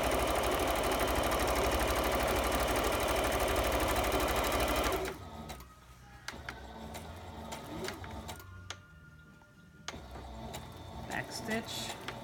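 Sewing machine overcast stitching the edge of a cushion slipcover, a loud continuous buzzing run for about five seconds, then stopping, followed by quieter clicks and handling noise.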